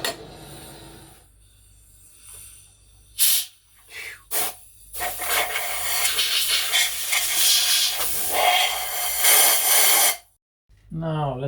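Compressed air blasts into the spark plug pockets of a Kia Rio 1.25 liter engine, a loud steady hissing rush lasting several seconds after a few short bursts, with a person speaking nearby.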